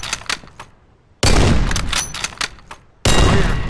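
Short, controlled bursts of rifle gunfire in a CS:GO training course, loud and close, with two sharp sustained volleys separated by a brief gap of quieter shots.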